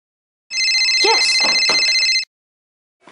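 Telephone bell ringing once in a continuous bright trill lasting under two seconds, close and clear, followed by silence.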